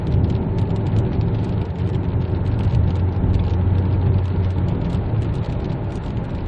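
A Fengon ix5 with a 1.5-litre gasoline turbo engine drives on the road, heard from inside as a continuous, fairly loud low rumble of engine and road noise with no talking.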